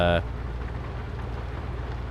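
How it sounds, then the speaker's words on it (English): Steady rain hiss inside the truck-driving game Euro Truck Simulator 2, sounding as a constant wash under a low engine drone after a brief voice at the start. "it's raining, everything's a bit wet."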